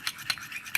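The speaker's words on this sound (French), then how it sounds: "Je vais mélanger." Toothpaste slime mixture being stirred in a container, a few short scraping, clicking strokes in quick succession, close and fairly quiet, with no talking.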